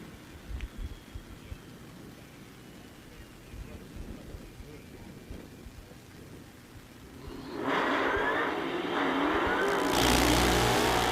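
Late model race cars do side-by-side burnouts at a street racing event, an orange or yellow Mustang on the left and a Hellcat on the right. Engines rumble under a commentator's voice, then rise to a loud, roaring, tire-screeching burst near the end.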